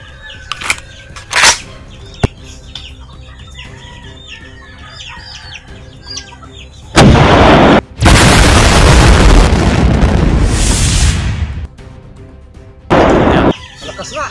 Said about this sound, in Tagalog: Dandahan mo lang ha. Kasi malakas yan sumabog.